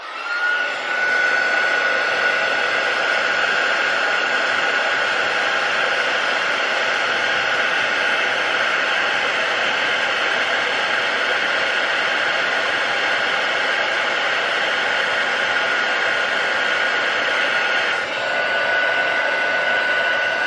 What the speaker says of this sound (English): And I'll just heat emboss that.